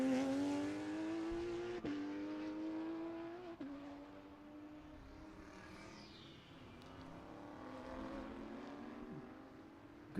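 Lamborghini race car on the track at Sebring during a vintage and modern racing event, its engine note droning steadily at a distance and shifting pitch as it passes, with a faint rising whine midway.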